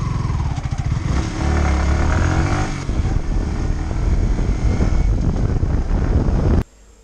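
A Yamaha R15 V3 motorcycle rides along steadily with a loud, continuous engine drone and rushing wind noise close to the microphone, cutting off abruptly near the end.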